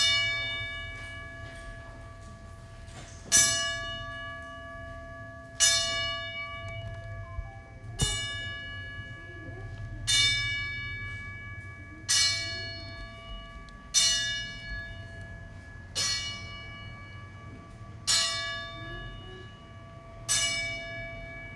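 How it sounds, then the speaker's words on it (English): A bell rung ten times as a memorial salute, each clear strike ringing out and fading before the next at a slow, steady pace over a low background hum. "We're going to give him a 10-bell salute."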